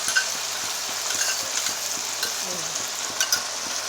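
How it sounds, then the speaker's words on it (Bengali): Tomato and soy sauce mix being stirred into frying onion and capsicum, with a steady sizzle and repeated scraping strokes of a spatula against the pan at an even rhythm, close by and alone. "পেঁয়াজ ক্যাপসিকামটা আমার ভাজা হয়ে গেছে। এর মধ্যে এই মিক্সটা আমি মিশিয়ে দিলাম।"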